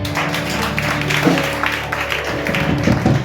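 A church congregation applauds loudly during an evening service, steady clapping from many hands with scattered voices over it.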